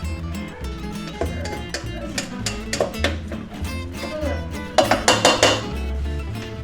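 Metal utensil scrapes and clinks against a pan while breaking up ground beef amid a steady sizzling, with irregular bursts of clattering through the stretch.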